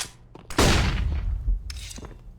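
A flashbang grenade goes off in CS:GO with a sudden loud burst at about half a second, then a sharp ringing hiss and debris crackle that decay over two seconds.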